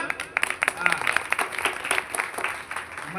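Women's group clapping during a Marathi kirtan devotional gathering, a steady burst of hand claps from a modest crowd lasting a few seconds, mixed with some voices.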